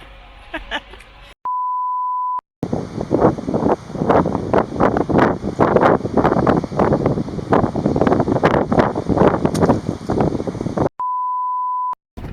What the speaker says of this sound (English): It's incredibly windy.